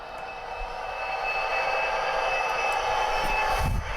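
A Tsunami2 sound decoder in a model train winds its diesel engine up toward notch 8 under added throttle, a steady rising drone with a faint whine that builds in loudness, ending in a short clunk.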